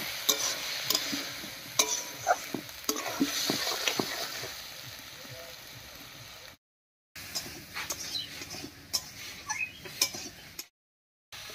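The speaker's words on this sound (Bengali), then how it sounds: "এবার একটুখানি জল দিয়ে কষিয়ে নেব।" Peas and potatoes being stirred with spices in a pan for Bengali ghugni, with the spoon scraping and clinking irregularly over a quiet sizzle. Two brief silent gaps break the sound.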